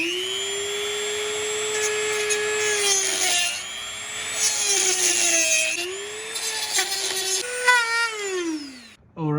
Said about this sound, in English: I'm using my Dremel to scuff that